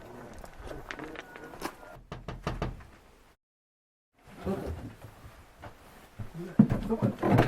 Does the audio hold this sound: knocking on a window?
yes